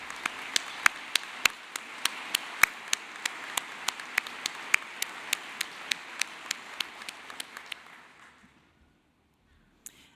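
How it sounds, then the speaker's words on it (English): An audience at a university commencement applauds alumni award winners: a broad wash of crowd clapping with sharp, regularly spaced individual claps standing out, fading away after about eight seconds into near silence. "Let's have a round of applause for our alumni winners."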